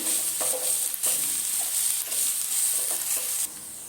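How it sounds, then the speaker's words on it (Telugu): Mashed potato filling for masala dosa being stirred in a pan with a spoon, giving soft scraping strokes over a faint sizzle at close range, with no talking. "ఆలు అంతా వేసుకున్నామండి వేసుకునేసి ఒకసారి తిప్పుకుందామండి"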